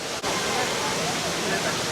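Water from the Rain Vortex, the huge indoor waterfall at Jewel Changi Airport, roars as a steady broadband rush, with droplets falling close by and a voice speaking over it.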